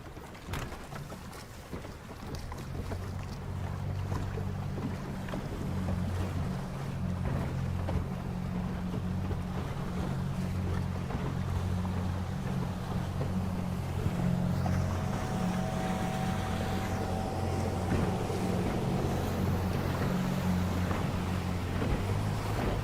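Steady drone of a motorboat engine under wind noise as the boat moves across the water alongside ILCA 6 sailing dinghies racing at a youth European championship regatta, continuous and fairly close throughout.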